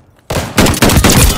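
Video game gunfire, a sudden loud burst of rapid close shots in several quick bursts after a brief quiet start.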